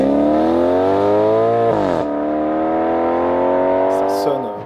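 A Maserati's 4.7-litre Ferrari-based V8 revs hard and close, its rich tone climbing, dropping briefly, then holding high before cutting off, loud and alone.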